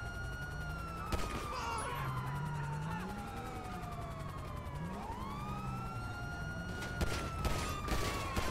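Sharp gunshots aimed at a car tire in GTA V crack out a few times, early and near the end, under the loud, continuous wail of police sirens that rise and fall throughout.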